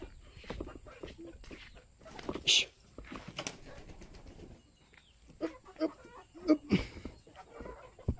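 Chickens cluck in short, scattered bursts amid other bird calls, with a few louder clucks near the end and faint voices in the background.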